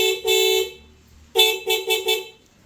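Dual horns newly fitted to an RS 457 motorcycle honk loud and close: one long blast, a pause, then four quick short toots in a row.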